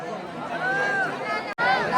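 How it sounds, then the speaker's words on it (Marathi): Dense babble from a crowd of pilgrims on the Girnar parikrama mountain path, many overlapping voices chattering close by with a brief dropout near the end. "आता इथून आपल्याला खाली उतरायचंय गर्दी बघू शकता गर्दी"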